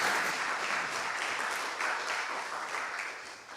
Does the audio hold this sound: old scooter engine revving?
no